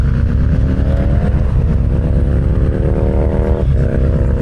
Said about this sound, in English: Well, that was quite a loud Land Rover,